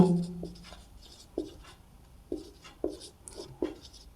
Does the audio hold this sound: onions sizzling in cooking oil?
no